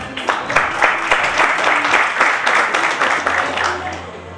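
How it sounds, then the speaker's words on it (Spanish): A crowd at a Bushido martial arts event applauds to welcome a fighter, with steady, dense clapping filling the whole stretch and voices mixed in beneath it. "Ahora el aplauso para recibirlo a Gabriel Vilar."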